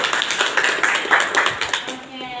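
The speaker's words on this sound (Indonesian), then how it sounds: "tepuk tangan untuk diri kita." A school class clapping hands for themselves, a quick run of scattered, close claps in an uneven rhythm over a few seconds, tapering off at the end with a voice faintly present.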